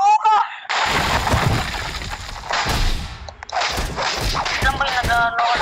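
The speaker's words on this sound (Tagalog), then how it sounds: "Bazooka!" A bazooka fires and explodes in a video game. Loud, close blasts and booming bursts come in several rapid waves, separated by short gaps.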